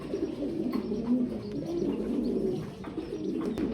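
Fancy pigeons cooing close by in soft, repeated throaty murmurs, several birds overlapping, with faint rustling and no talk.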